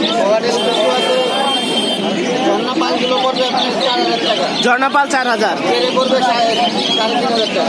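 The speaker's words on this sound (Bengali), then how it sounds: "এটা হচ্ছে কথা বলা একটা ময়না পাখি" Caged birds, including a myna and cockatiels, chirp and call throughout a crowded bird market in Tongi, heard beneath nearly constant loud talk from people close by.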